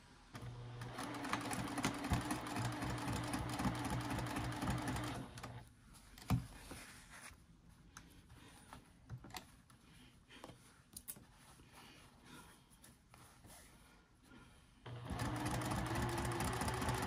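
A sewing machine stitches and backstitches a seam on a small zipper coin and card pouch, a steady close whirring run at the start, a quieter pause with clicks and handling, then a second run near the end.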